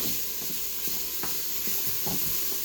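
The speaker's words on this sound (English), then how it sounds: "Now it's sizzling pretty good here, so I'm going to go ahead and stir it up a little bit." Italian chicken sizzling in a quick cooker, a steady frying hiss broken by repeated soft scraping as a utensil stirs the pieces, close and moderately loud with no voices.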